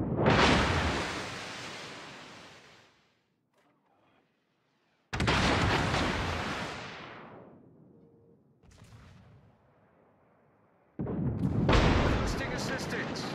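Naval guns fire in World of Warships, heavy broadband booms that roll into long decaying rumbles, three loud salvos separated by quieter gaps.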